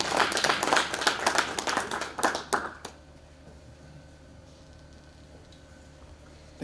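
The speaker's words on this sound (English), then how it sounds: "Please give him a round of applause." A conference audience claps for a speaker being introduced at a business roundtable on real estate, the dense clapping fading out after about three seconds into a quiet room.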